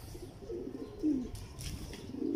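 Pigeon cooing, soft and low, from a purple-legged teddy pigeon bred for flying, held close by; brief cooing notes rise over a faint background.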